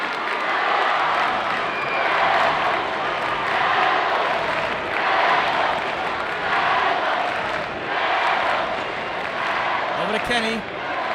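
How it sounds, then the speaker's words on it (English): A roaring high school boys basketball crowd at a state championship game fills the gym with steady cheering and swelling noise, while commentators talk excitedly over it throughout. "Yeah, the crowd's coming alive."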